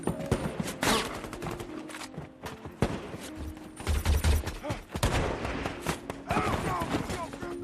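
Gunfire in a war-film firefight rings out as scattered bursts and single shots amid chaotic battle noise, footsteps and clatter, with voices talking over parts of the scene.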